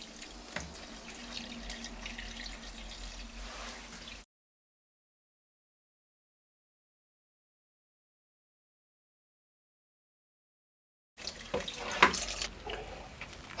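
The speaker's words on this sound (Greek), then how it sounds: "θα ρίξουμε και το νεράκι" Water runs from a tap into a bowl of lagana bread dough ingredients in a home kitchen, a steady faint splashing stream that stops abruptly, then a long silent gap before it resumes briefly with a louder splash.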